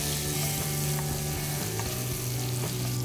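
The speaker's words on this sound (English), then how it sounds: "So turn down the heat and add in some butter and give it a good mix" Butter melting into hot caramelised sugar in a pan for a waffle-stick sauce, a dense continuous bubbling sizzle close up with a few faint stirring scrapes, no talking.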